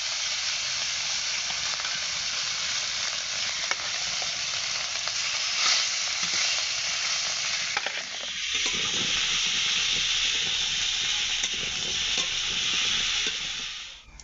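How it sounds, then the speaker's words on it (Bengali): Fish sizzles steadily as it fries in oil in a pan, a continuous close hiss with occasional crackles and a brief stir or shift midway, no voices over it. "বাকি মাছগুলো একইভাবে ভেজে নেব।"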